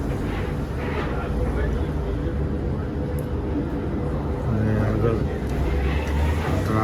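Road traffic passes near a bus stop on Western Road on a rainy day, a steady low rumble of vehicles that continues without a break.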